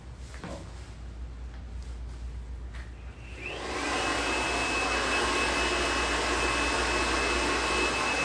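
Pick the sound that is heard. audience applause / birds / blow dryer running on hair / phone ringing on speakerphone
blow dryer running on hair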